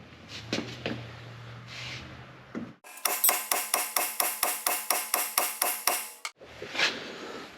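A hammer tapping on a rusted bearing stuck on a Dana axle shaft from a Ford Super Duty truck: a rapid, even series of about fifteen sharp metallic strikes, close and ringing, with brief clatter before and after.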